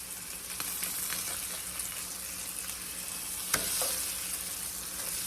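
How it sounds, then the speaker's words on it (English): Fish sizzles in a hot pan just after being turned, a steady close frying hiss with one brief sharper crackle partway through, no voices. "Okay, we are going to flip the fish."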